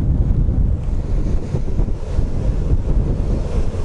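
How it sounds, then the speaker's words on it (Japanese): Strong wind roars across the microphone on a Gold Wing motorcycle riding beside a rough Hokuriku sea, a loud, continuous buffeting rumble with no voices. "風が強すぎるぜ。"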